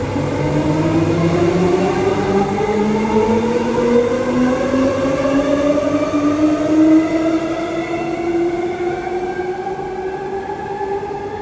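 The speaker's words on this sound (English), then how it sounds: "Both trains departing at the same exact time." Electric trains pull out of a station on Perth's Armadale line together, their motors whining steadily upward in pitch as they accelerate, loud and close under a constant rumble, with no talking.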